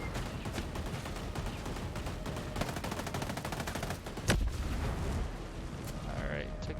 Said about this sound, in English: They do have like an automated turret or something.